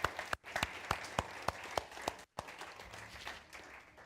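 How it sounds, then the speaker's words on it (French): A live audience applauds a couple in a French-speaking gathering, a dense patter of hand claps with a few sharper nearby claps standing out, briefly dipping twice before carrying on steadily. "On peut les applaudir?"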